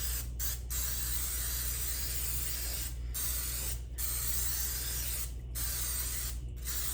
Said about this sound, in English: and our pan cooking spray.